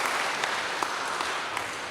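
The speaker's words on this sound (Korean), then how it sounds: "박수로 환영해 주시기 바랍니다." A church congregation at a Sunday worship service claps steadily and densely to welcome a newcomer. The applause is close, loud and continuous, with a few sharper claps standing out and no voices.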